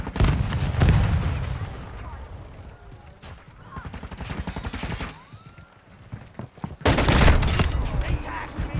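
A full-auto Desert Eagle fired from the hip in Modern Warfare 2 produces loud, rapid bursts of gunfire with short lulls and a heavy burst near the end, while someone talks throughout.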